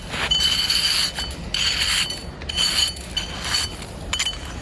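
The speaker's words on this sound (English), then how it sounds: "So I'm going to tool the pit a little bit with a little spatula." Small spatula scraping across a snow pit wall at an icy layer, producing a series of four or five gritty, squeaky glassy rasps in quick strokes, close and fairly quiet, with no talking.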